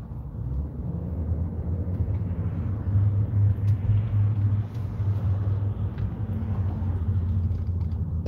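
Steady low road-traffic rumble from vehicles passing along a roadside, a continuous heavy drone swelling slightly midway, with no voices.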